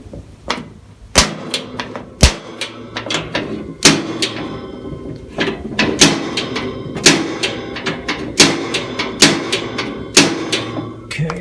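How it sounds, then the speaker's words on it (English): A gas space heater's igniter clicks over and over while trying to spark the pilot light, sharp close snaps coming roughly once or twice a second in an uneven rhythm. "you just push the igniter here to spark the pilot light"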